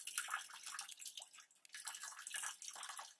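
Spring water poured from a jug into a cat's bowl, a continuous splashing trickle with bright bubbly gurgles, close and moderately quiet, with no talking.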